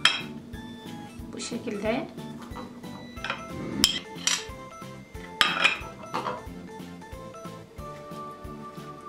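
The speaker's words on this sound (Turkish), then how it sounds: "İçerisini dondurmayla dolduruyoruz." A metal spoon scoops soft ice cream into a hollowed-out melon, giving repeated clinks and scrapes against a bowl at close range, with a person talking intermittently.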